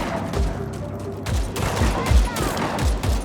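Repeated gunfire bursts from the video game Just Cause 4, rapid booming shots in loose clusters with rocket-launcher-style blasts, loud and continuous over a low rumbling game soundscape.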